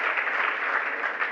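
Dense audience applause during a Jain religious discourse, a brief burst of even, continuous clapping with no voices over it.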